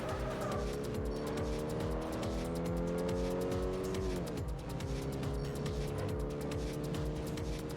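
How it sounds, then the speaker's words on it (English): A ghost car in Forza Motorsport 4 drones with a steady, loud racing engine note that climbs through the revs, dips briefly at a shift, then pulls again under faint tyre noise. "it does do the ghost engine sound"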